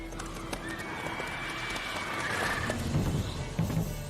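A horse gallops in The Witcher 3 video game, its clip-clop hoofbeats growing heavier and louder toward the end, with a neigh and game ambience underneath.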